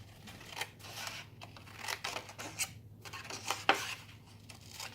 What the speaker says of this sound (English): you're going to cut this whole tab right off